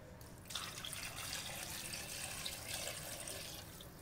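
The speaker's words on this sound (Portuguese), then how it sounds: "Agora vamos colocar água." Water pours steadily into a pressure-cooker pot of beans with pig's feet and ears, a close, continuous splashing rush that starts suddenly after a brief quiet moment, with no talk.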